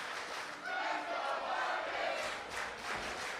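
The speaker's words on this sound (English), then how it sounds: "This crowd coming to life for the young prodigy." A wrestling-match crowd roars and cheers in a sustained, washing swell, loud and continuous with no clear voices standing out.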